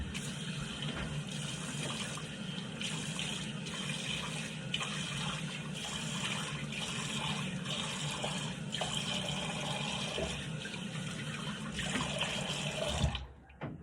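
Steady running water pours from a tap as a yellow budget safety razor is rinsed beneath it, a continuous broad rush lasting several seconds before the flow cuts off near the end.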